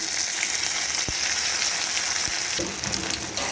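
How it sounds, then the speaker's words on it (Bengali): Grated garlic and chopped onion hit hot oil with a dried red chilli, giving a steady close sizzle with a couple of sharp utensil knocks and a brief stirring scrape near the end, with no talking. "সাথে দিয়ে দিচ্ছি গ্রেট করা রসুন আর পেঁয়াজ কুচি"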